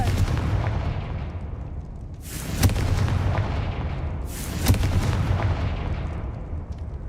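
Two booming fire-blast explosions from the Confringo spell in Hogwarts Legacy, each a sharp crack followed by a rumbling roar, spaced about two seconds apart over a low steady background hum.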